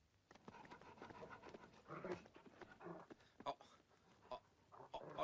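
Dog panting rapidly and faintly in an indoor scene from an Italian comedy film, quick breathy puffs running under background sounds and movement.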